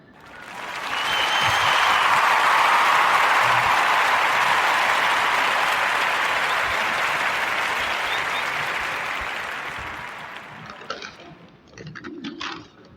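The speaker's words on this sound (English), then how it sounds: "So give them a warm narrative podcast round of applause." Warm round of applause from a podcast audience, dense steady clapping that swells quickly, holds loud for about nine seconds, then thins and fades out.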